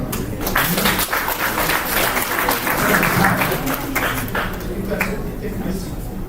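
An audience at a tourism conference applauds steadily for several seconds, a dense wash of clapping hands filling the room.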